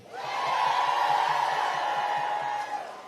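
A crowd at an outdoor women's march and rally in Washington, D.C. breaks into sustained applause and cheering, a broad steady roar that swells quickly, holds for about three seconds and then eases off.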